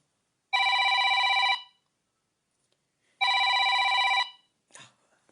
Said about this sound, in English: Lee, stop phoning me.